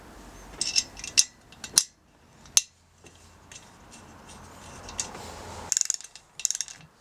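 Sharp ratcheting clicks and metallic ticks sound as a torque wrench tightens a bolt on a 2002 Triumph Bonneville America motorcycle engine, coming in short irregular bursts, close and fairly quiet.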